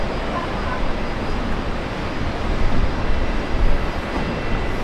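An airliner takes off from runway 01 right at Brisbane Airport. Its loud, broad jet roar fills the air steadily and swells slightly toward the end.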